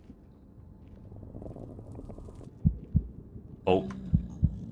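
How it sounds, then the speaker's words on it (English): In the Minecraft mod No_Moon, slow heavy heartbeat thumps rise out of a low ambient drone, a few deep pulses in pairs with a brief rumble between, as a voice gives a short exclamation. "Oh no, the heartbeats are here."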